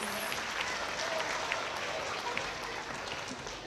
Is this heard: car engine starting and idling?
no